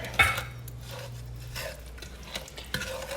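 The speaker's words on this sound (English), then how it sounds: "we're going to add in the brown sugar now and the Tangelo juice. And we're going to stir that up for a bit." Butter, brown sugar and tangelo juice stirred together in a pan over medium heat for a ham glaze, with a spoon scraping and clinking against the pan amid a soft sizzle, close and fairly quiet.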